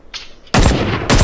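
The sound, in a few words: gunfire in the video game Ring of Elysium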